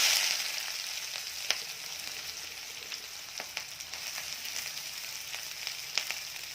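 Sliced onions and green chillies fry in hot oil with a bright, steady sizzle and crackle, close up, dotted with occasional sharper pops and light stirring taps.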